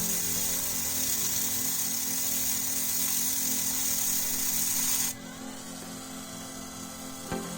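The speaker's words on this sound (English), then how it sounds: "I will just start touching the Photo-Etch part slowly" Sandpaper rubbing against a small photo-etch metal brake disc, a steady close rasping hiss that stops abruptly partway, leaving quiet room noise and a faint tap.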